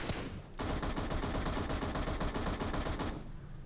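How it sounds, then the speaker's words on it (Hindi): Sustained automatic gunfire in the mobile battle-royale game Battlegrounds Mobile India, a loud rapid burst of shots lasting about two and a half seconds, preceded and followed by a short quieter shot. "अरे कहाँ पे चल रहा है इतना गोली"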